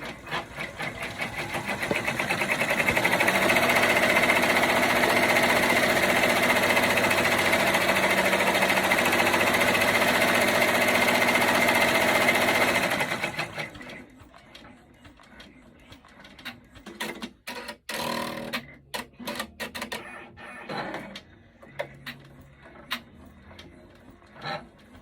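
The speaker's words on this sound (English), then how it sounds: "And then I'll let it run for the satin stitch." An embroidery sewing machine runs a satin stitch with a loud, fast, steady mechanical chatter for about thirteen seconds, then stops, leaving quieter scattered clicks and handling noises.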